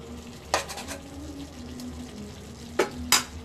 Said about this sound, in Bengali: এবার ঢাকনাটা খুলে একটু নেড়ে দেব